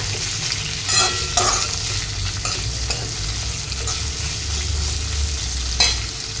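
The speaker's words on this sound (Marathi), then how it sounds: "या सगळ्या भाज्या घालायच्या, छानपैकी ढवळायच्या" Mixed vegetables for a diet daliya pulao fry in a pan and are stirred, a steady close sizzle with a few louder scraping stirs near the start and one more near the end, with no voices.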